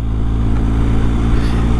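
A BMW R1250GS motorcycle, fitted with an Akrapovic exhaust and running a BT-MOTO tune, gives a loud, steady, deep engine drone with a throaty exhaust note, held close-up for a moment.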